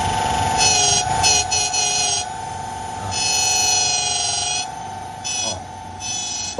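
Brake pads on an electric motorcycle squealing during a brake test: a steady, piercing tonal whine with shrill high overtones that flare and fade over several seconds, loud and continuous.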